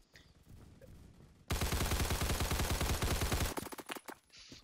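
Rapid automatic gunfire in the video game Phantom Forces, a loud burst of about two seconds of closely spaced shots, then several scattered single shots trailing off.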